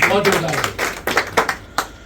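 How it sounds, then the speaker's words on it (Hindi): An audience at a Hindi Diwas gathering claps in a short burst of separate, uneven hand claps that thin out toward the end, while a voice is heard at the start. "तालियां"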